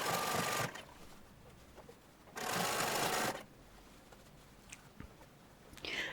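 A sewing machine runs a blind hem stitch on a shirtwaister dress in two short, even bursts of rapid mechanical whirring, separated by quiet pauses, with a brief start of a third at the end.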